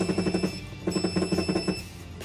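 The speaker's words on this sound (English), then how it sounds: "So oven timer, we're just going to crank that up." A Bradley smoker's oven timer is set: a run of quick electronic beeps in short repeated bursts, close and clear with no voices.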